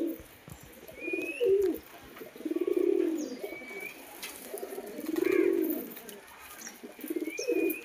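Pigeons coo in repeated low, rolling phrases, about three swelling bouts close by, with faint chirps and light ambient noise between them.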